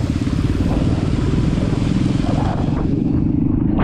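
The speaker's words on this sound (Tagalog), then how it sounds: "Pag hindi naman gaano malalim ito. Ganito lang. Kaya-kaya ng motor." A motorcycle rides through shallow floodwater on a flooded road, its engine running steadily and loud and close throughout, with splashing and clatter mixed into the drone.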